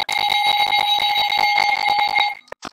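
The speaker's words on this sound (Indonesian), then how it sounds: "Alarm guys, makan siang." A loud electronic alarm rings continuously with a rapid pulsing buzz for lunch break during an online financial statement analysis class, then cuts off abruptly near the end.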